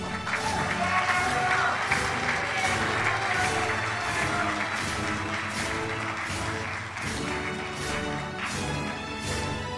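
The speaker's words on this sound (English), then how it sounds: "Please come to the front and give a round of applause for our treasurer," Sustained audience applause at a senior high school graduation ceremony, a dense, steady wash of many hands clapping for about ten seconds with music or voices faintly underneath.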